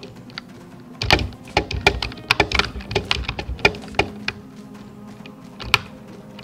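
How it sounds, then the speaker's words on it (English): A computer keyboard clacks close by during gameplay of Dead Cells, with bursts of irregular sharp key strikes and short pauses between them. "Sorry if you hear my keyboard clacking."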